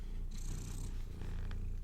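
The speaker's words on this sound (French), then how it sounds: "Je suis désolée pour mon petit chat." A small pet cat purring close by, a steady rumbling purr with a faint higher tone layered over part of it.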